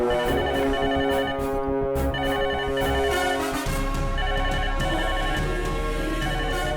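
A phone ringtone plays continuously, a repeating electronic melody over a low background drone, fairly loud and with no voices.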